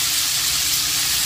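Chicken pieces frying in peanut oil after being turned, giving a steady, close sizzle with broad crackling hiss throughout, with no talking.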